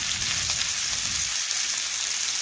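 Pointed gourd frying in a kadai with salt and turmeric, a dense, even sizzle that crackles close and loud the whole time, with no talking.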